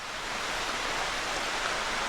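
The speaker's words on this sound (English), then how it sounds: "It's a little stream right here." Loreberry Creek, a small stream along a Pennsylvania trail, flows with a steady, even rush of water that fills the whole stretch without pause and with no voices.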